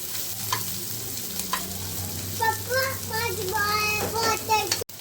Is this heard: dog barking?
no